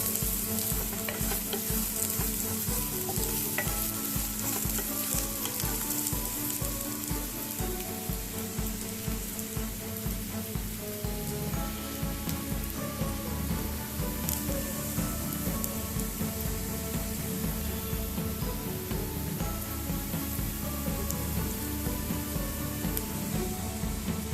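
Onions and sugar fry in oil in a pan for Indian kadai paneer, giving a steady, dense sizzle with light stirring throughout and no voices.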